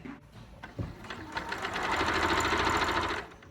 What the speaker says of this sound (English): I wanted to check whether I actually could sew this vinyl on my machine